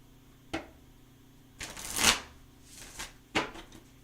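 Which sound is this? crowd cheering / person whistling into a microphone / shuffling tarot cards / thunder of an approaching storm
shuffling tarot cards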